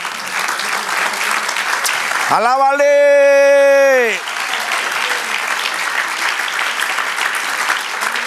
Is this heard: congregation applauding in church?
yes